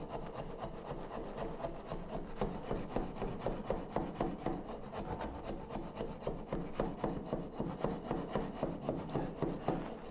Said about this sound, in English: me sawing relief cuts to get these guys done